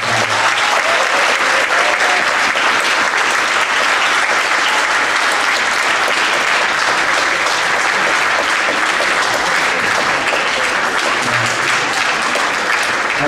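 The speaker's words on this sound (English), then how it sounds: "please give both candidates a round of applause" A high school auditorium audience at a state senate debate gives both candidates a long round of applause, loud, thick, sustained clapping that stays even across more than thirteen seconds without speech.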